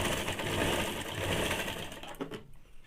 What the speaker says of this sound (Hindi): अब यहाँ पे 2 चाप सिलाई चला लेंगे।